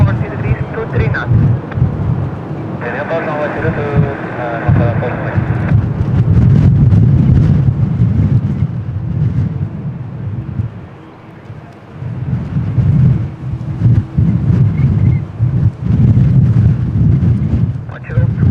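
Strong wind buffets the microphone in a steady, loud rumble at Lisbon Airport, with gusts swelling and easing, a brief tonal whine early on and distant aircraft noise mixed into the roar.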